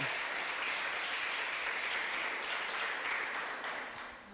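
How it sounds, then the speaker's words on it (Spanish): A church congregation applauds during a Spanish-language worship service, a sustained wash of many hands clapping at moderate distance that tapers off near the end, with no voices. "denle un aplauso al Señor, que Él es bueno"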